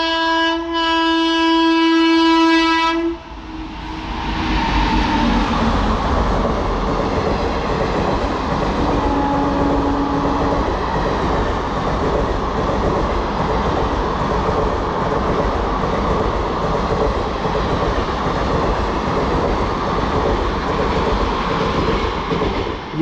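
Saharsa-Sirhind summer special train passing through Shambhu railway station in India, opening with a loud, sustained horn blast, then a long, steady rumble and clatter of coaches rolling past close by.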